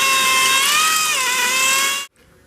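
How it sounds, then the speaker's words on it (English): A power drill whines steadily and close as it enlarges bolt holes for fitting a rooftop tent on a Land Rover LR3, then stops abruptly, leaving a quiet tail. "we enlarged the holes a little bit. It was only a couple sizes up from 5/16"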